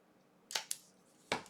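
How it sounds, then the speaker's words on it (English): A few sharp snips of scissors cutting paper, two close together and then another pair after a short pause, crisp and close. "we're just going to take our scissors and give a little"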